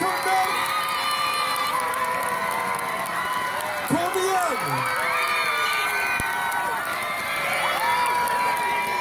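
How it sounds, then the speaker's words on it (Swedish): A live audience at a warm-up in Ekeby, screaming, whooping and applauding all at once, a dense sustained roar of shrieks and clapping that stays loud the whole time. "vi ska ha det skriket och den applåden vi kör"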